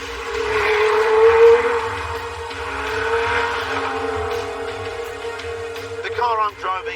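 A Lotus mid-engine sports car drives along with a steady engine drone and road roar from inside or close by, fading slightly toward the end, while someone speaks over it.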